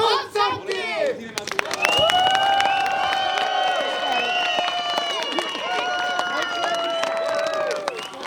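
Outdoors at a town fair in Jiříkov, a crowd claps and cheers together after a short burst of amplified speech, holding a lively, sustained wave of applause and shouts with whistles and voices mixed in.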